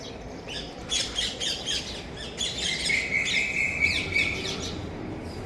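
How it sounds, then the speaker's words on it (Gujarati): A flock of parrots calls continuously with overlapping harsh squawks and chirps, fairly close and loud, with a rustle of wings as the birds take off outdoors. "હવે હું ત્યાં જઈશ ને તો બધા પોપટ ઉડી જાય છે."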